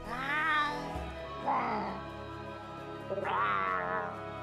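Three drawn-out meows and yowls from a Palico cat in Monster Hunter World, close and fairly loud, the last stretching into an agitated wail over a faint low hum.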